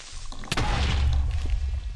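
A Minecraft creeper explodes in the game with one sharp crack followed by a deep rumbling boom that rolls on for over a second, loud and close, with no talk over it.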